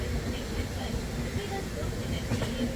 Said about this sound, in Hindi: दो ट्रेन एक साथ अराइवल होते हुए